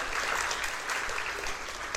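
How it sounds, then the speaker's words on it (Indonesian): A church congregation breaks into applause, a dense continuous clatter of many hands clapping, moderately close and sustained for a couple of seconds. "Ya boleh tepuk tangan"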